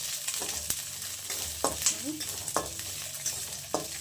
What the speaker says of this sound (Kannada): ಇವಾಗ ಫ್ರೈ ಮಾಡೋಣ ಇದೆಲ್ಲ ಚೆನ್ನಾಗಿ ಫ್ರೈ ಮಾಡ್ಕೋಬೇಕು